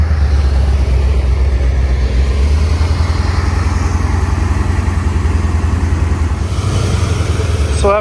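C4 Corvette engine idling while warming up, a loud, close, continuous low rumble with a slightly uneven pulse, running alone throughout.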